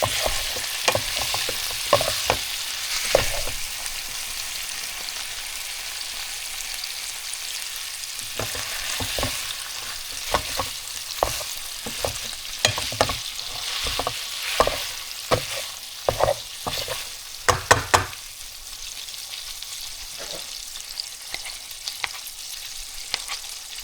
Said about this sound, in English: So we're starting with 1 pound of ground beef. And I'm using 70/30. I'm going to get it good and browned. Let me mix this up.